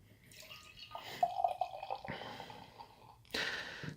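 Platform Beer Company's Key Lime Pie Gose is poured from a can into a glass, giving a short, fairly quiet trickle and gurgle of liquid with a brief louder fizzing splash at the end.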